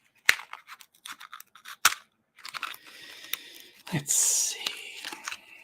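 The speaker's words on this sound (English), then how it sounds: "All right, I'll open this little box." A small fragrance box is opened by hand, giving crisp crinkling, scraping and tapping clicks close up, with a soft rustle building near the end and brief speech at the start.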